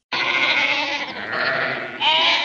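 Sheep bleating outdoors in the Bardenas countryside, a couple of long wavering bleats close by and fairly loud, the second rising sharply near the end.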